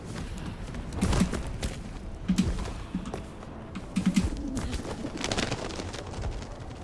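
Flock of pigeons startled into flight on a rooftop in the video game Vampire: The Masquerade – Bloodlines 2, a few bursts of flapping wings and coos over a steady ambient bed, with no talking.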